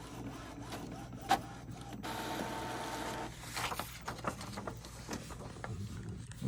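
An Epson EcoTank printer running a calibration page: a steady mechanical whir of the print head and paper feed, punctuated by clicks and clunks as the carriage moves and the page advances, close and continuous.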